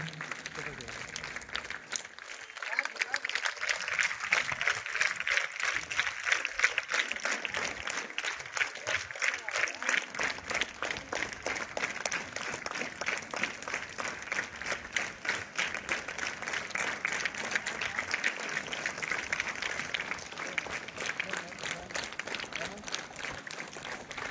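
Audience applause at a school event honoring children and PT teachers, a steady dense wash of clapping that continues throughout with crowd noise mixed in.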